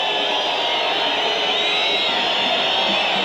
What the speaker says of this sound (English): Bit of hostility from the crowd, directed at the players just taking things a bit too steadily for their liking